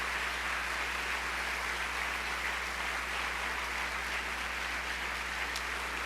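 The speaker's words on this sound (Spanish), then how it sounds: "Denle un aplauso a Él, Él merece un aplauso." Continuous applause from a crowd, a dense, even patter of clapping that holds steady for several seconds without voices.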